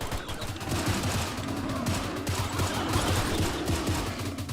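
Rapid bursts of gunfire from the shooter game STALCRAFT, dense overlapping shots rattling continuously and loudly throughout with no pauses.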